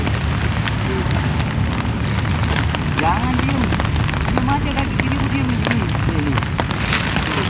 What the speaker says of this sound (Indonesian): Dilanjutkan masih di bawah guyuran hujan gerimis di alam raya.